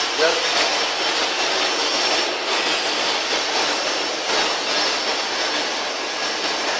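An A4 paper packing machine runs with a loud, steady broadband whoosh and rumble that stays fairly even throughout, while people talk faintly underneath.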